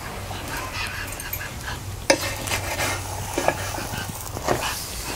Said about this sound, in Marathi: आता आपण हे बाजू पलटी करून घेऊया.